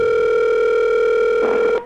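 A steady telephone dial tone hums loud and close for almost two seconds, alone with no voices, then cuts off abruptly at the end.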